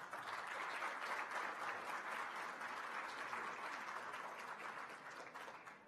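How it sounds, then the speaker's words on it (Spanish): Warm audience applause greets an Indian embassy official at an academic event in Peru, a sustained, even wash of many clapping hands heard from a distance that fades slightly at the end. "a quien lo vamos a saludar con nuestro cariñoso aplauso"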